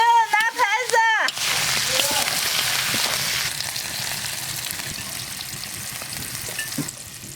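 Cured pork and garlic sprouts sizzle as they are stir-fried in a wok, a dense crackling hiss that settles into a steady fry, following a brief burst of speech at the start.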